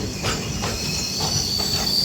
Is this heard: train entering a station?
yes